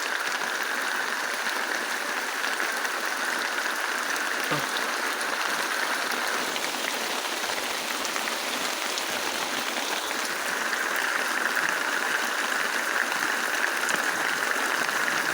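Rainwater runs across a farm field after unseasonal rain, a steady hissing wash of flowing water, even and unbroken for the whole stretch, with no voices over it.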